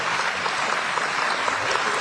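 A lecture audience at Embry-Riddle breaks into applause, a dense steady clatter of many hands clapping for a couple of seconds.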